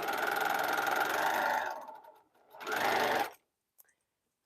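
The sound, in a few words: sewing machine sewing a quilt block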